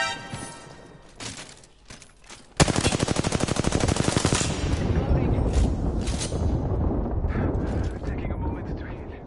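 Rapid automatic gunfire in a battle-royale shooter game, a sustained burst of loud, tightly spaced shots starting abruptly after quieter in-game sounds and continuing with dense crackling reports; a voice talks during it.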